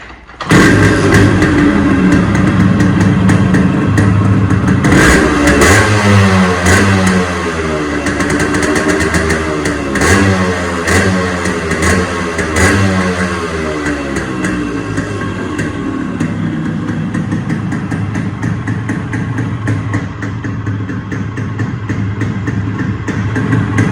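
A modified, restored Yamaha RX100 two-stroke motorcycle idling and revving up close, loud and continuous, its rapid throttle blips rising and falling in pitch before settling into an uneven idle, with no talk.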